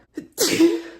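A woman sneezes once, sharp and close, right after a brief faint intake of breath, with no talk around it.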